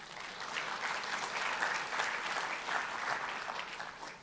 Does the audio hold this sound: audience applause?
yes